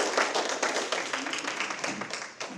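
A dense, steady round of applause from an audience honoring panelists at an education forum, many hands clapping together throughout, fairly loud and continuous with slight swells.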